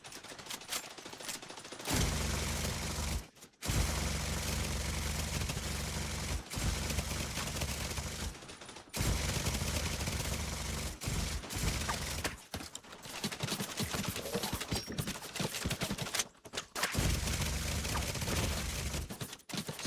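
Light machine gun fire in The Division 2, long sustained loud bursts with brief pauses between them, dense and continuous over nearly twenty seconds.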